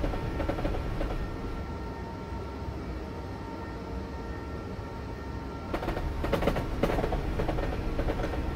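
A train passes by in Train Simulator 2016, with a Class 377 EMU on a Southern London commuter route: a steady rumbling roll with clickety-clack bursts toward the end, alone without talk.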